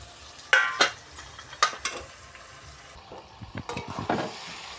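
A spice masala of ginger, cumin, green chilli and fish roe fries in a pan with a soft sizzle, broken by sharp spatula scrapes and knocks in irregular bursts.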